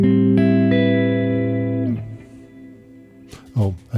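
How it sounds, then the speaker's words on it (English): Electric guitar played through a delay effect: sustained chords ring loudly and then decay, followed by quieter scattered notes and brief plucks. "I need to switch off the delay that you can hear"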